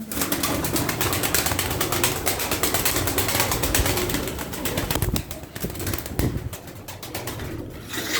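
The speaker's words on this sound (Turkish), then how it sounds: "Çok sert bir kanat sesi var." Tumbler pigeons in a group flight over Darıca produce sharp, hard wing claps in a steady flurry, with cooing and bird calls through the flock, loud and close throughout.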